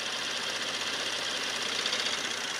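Engine idling steadily during a cylinder contribution test as the injectors are pulsed off one at a time; a continuous, even mechanical hum with a faint ticking rhythm, close and moderately loud, with no talking.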